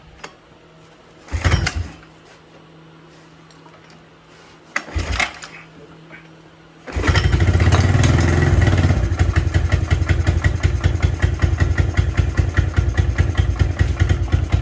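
A 1996 Suzuki Quad Runner 250 ATV engine catches after a couple of short cranking attempts, then runs loud and close with a rough, steady idle clatter that continues to the end.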